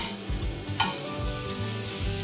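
Onions sizzling with salt in a pan, a steady frying hiss with occasional stirring scrapes, close and alone with no voices.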